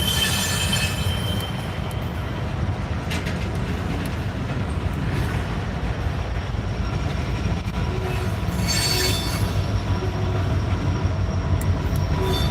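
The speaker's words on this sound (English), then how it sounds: "An SD70 ACE making an appearance this morning." An SD70ACE locomotive leading a Norfolk Southern freight train rolls past on a morning run with a steady, loud rumble of wheels on rail and some faint squeals, continuous and near throughout.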